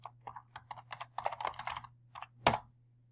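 Clicky computer keyboard keys are pressed in a quick irregular run while a password is entered, close and crisp over a low hum, ending in one louder keystroke.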